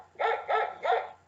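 A dog's bark, imitated by a voice reading an Eric Carle animal tale aloud: three evenly spaced, hooting woof sounds, close and clear, with nothing else around them.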